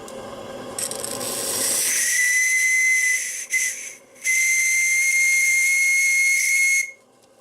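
A live-steam model tugboat's whistle holds one high shrill tone loudly and steadily for several seconds, briefly breaks off, then sounds again over a constant hiss of steam.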